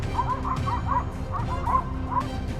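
A pack of hounds chasing a large wild boar through a swamp yips and bays in quick excited bursts, several overlapping cries repeating through the moment at mid distance over a low outdoor rumble.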